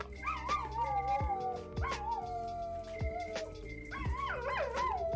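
A pet dog howls at home, drawn-out wavering howls repeated several times in a row, close and fairly loud, with a few yips mixed in.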